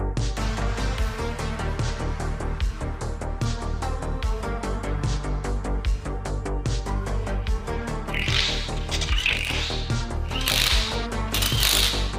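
A ratchet rapidly tightens wheel fasteners while wheels are fitted back onto a wrecked Mercedes GLA45 AMG in a workshop. The clicking is dense and continuous, with louder, harsher bursts near the end and no voices.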